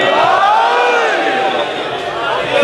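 Large crowd at a religious majlis gathering in Multan chanting slogans in unison, loud and sustained with rising and falling voices throughout.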